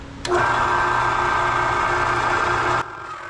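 A Central Machinery 1 HP 4 by 6 inch horizontal/vertical metal band saw cutting metal stock, a steady loud mechanical whir starting abruptly and running about two and a half seconds before cutting off sharply.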